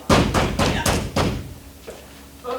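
Five heavy thuds pound on a door in a steady rhythm, loud and close, followed by a couple of fainter knocks with no speech.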